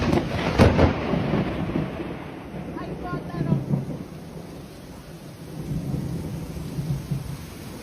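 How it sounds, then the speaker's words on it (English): A thunderstorm in Montreal or Calgary, with strong gusts, nickel-size hail and heavy rain: a loud thunder crack early on, then rumbles rolling on under a steady roar of heavy rain. "a storm capable of producing very strong wind gusts, up to nickel-size hail and heavy rain."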